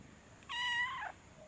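Iceberg, a friendly cat, gives one clear, drawn-out meow of about half a second, close and moderately loud against a quiet room.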